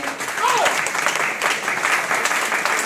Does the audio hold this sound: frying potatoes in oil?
no